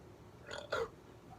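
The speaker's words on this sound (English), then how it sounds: "There's a burp right there." A single short burp after a sip of Neshaminy Creek Croydon Cream Ale, a quick two-part eructation, close but fairly quiet against a faint room background.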